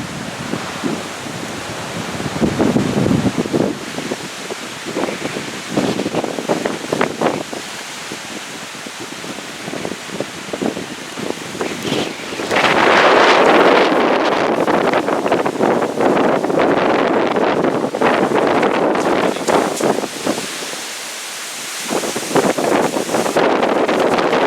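Strong gusty wind roars across a neighborhood street on a windy day, buffeting the microphone in surging bursts with rattles and knocks of toppling trash and recycling bins.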